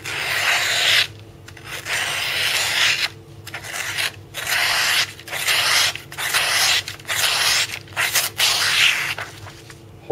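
A factory-edge Kershaw OD-2 pocket knife slices through material in a cutting demo, making about eight loud, raspy rubbing strokes in a steady back-and-forth rhythm, each separated by a brief pause.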